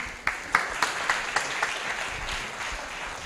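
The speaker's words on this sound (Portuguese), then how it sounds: "Uma grande salva de palmas." An audience at a live hip-hop concert in Portugal claps in a quick, even rhythm of about half a dozen sharp beats, then settles into softer, looser applause and crowd murmur.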